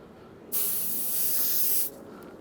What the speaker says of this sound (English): We give a spray around it, and we'll give one here.